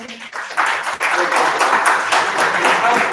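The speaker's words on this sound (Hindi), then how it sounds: "अब मेरे ताली बजा दो" Workshop participants clap together in a room, a dense burst of hand claps that starts abruptly and continues steadily, with some voices mixed in under the clapping.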